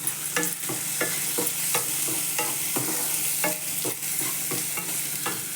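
Puffed rice being stir-fried with turmeric and salt in a pan, a steady low sizzle with repeated scraping strokes of the spatula at a fairly even rhythm, close up and with no talking.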